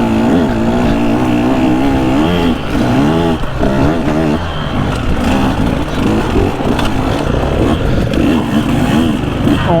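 A KTM 150 SX two-stroke dirt bike ridden up close, its engine loud and continuous with rising and falling revs as it shifts and accelerates, no talking over it.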